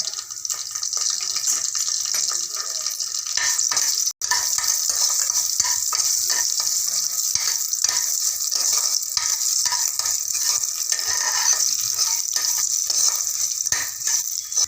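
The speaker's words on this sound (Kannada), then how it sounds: "ಆಮೇಲೆ ಒಣಮೆಣಸಿನ್ಕಾಯಿ ಒಗ್ಗರಣೆಗೆ ಹಾಕ್ತಾಯಿದ್ದೀನಿ." Dried red chillies and curry leaves sizzling in hot oil as a tempering for bisi bele bath, with a loud, close, continuous crackling fry and one abrupt break partway through.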